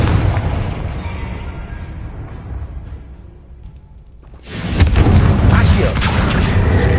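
Confringo blasting spell in the Hogwarts Legacy video game: a loud, sudden burst at mid-clip erupts into a sustained, dense rumbling roar that carries to the end, following a quieter stretch of low ambient rumble.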